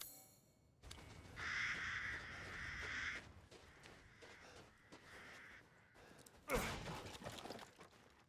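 Crows caw in the Resident Evil Village game, a few harsh calls spaced over a busy background of game ambience and other noise, with a loud burst toward the end.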